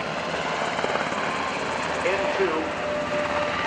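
UH-60 Black Hawk helicopters flying at the 2011 Rhode Island Air National Guard open house and airshow, a steady loud rotor and engine roar under a voice.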